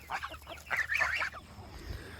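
Geese honk and cackle in a noisy burst of several loud calls, then fade to quieter background sounds.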